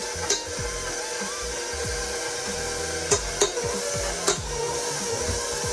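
Sweet dough is stirred in a bowl while butter is slowly worked in for a Swedish bake, giving a steady close scraping and churning texture with a few sharp knocks of the utensil against the bowl, no talking.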